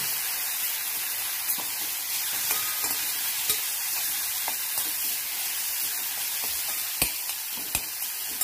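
A ground spice paste for a tangy dill and potato bhaji is stirred in a hot pan. It gives a steady soft sizzle and hiss with occasional sharp scrapes and clicks of the spoon, and no voices are heard.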